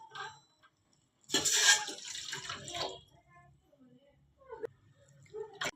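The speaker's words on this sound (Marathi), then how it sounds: "त्या भांड्यामध्ये दीड ग्लास पाणी आपण घालून घेणार आहोत" Water splashes briefly into a cooking pot, about one and a half glasses poured in a short burst, followed by quieter handling sounds and a few faint clinks in an otherwise quiet kitchen.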